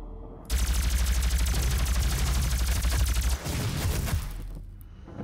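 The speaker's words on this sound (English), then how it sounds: "We're gonna plasma rifle him." Plasma rifle in the video game DOOM fires a rapid, continuous stream of loud repeating shots for about three seconds, then a short tail of further fire.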